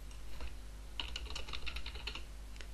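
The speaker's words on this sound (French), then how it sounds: "vous appuyez sur la touche Alt de votre clavier" Rapid keystrokes on a computer keyboard used while editing in Photoshop, a quick run of close clicking taps with no talking and a steady low hum beneath.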